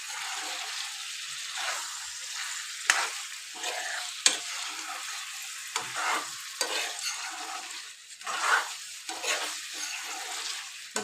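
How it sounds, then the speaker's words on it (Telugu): Lemon chicken curry and green chili paste are stirred in a pan, giving soft sizzling and repeated scraping strokes of a spoon against the metal at an uneven rhythm, fairly quiet and close. "ఇప్పుడు ఇట్లా మంచిగా మిక్స్ చేసుకున్నాం కదా."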